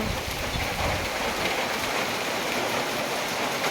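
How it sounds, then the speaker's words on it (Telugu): Dense, even rainfall patters close by, a continuous hiss with no pauses. "చూడండి వాన ఎలా పడుతుందో"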